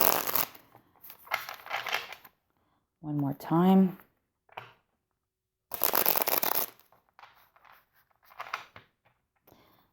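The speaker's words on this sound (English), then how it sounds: "let's just shuffle this way now" Cards being shuffled in quick riffling bursts, interrupted by a person talking briefly in between.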